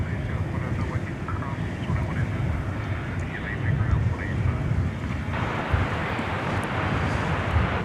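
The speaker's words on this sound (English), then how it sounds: "Martin Air Flight 648, Cessna 208B Super Cargo Master, just arriving from Tyler, Texas" A Martinair Cessna 208B Super Cargo Master turboprop arriving at DFW at night from Tyler, Texas, makes a steady rumbling engine drone under wind noise, with someone talking throughout.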